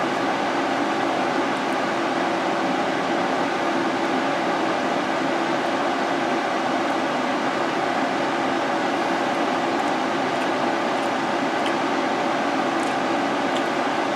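An electric fan blows a steady, even wash of airy noise close by, unchanging throughout, with no voices over it.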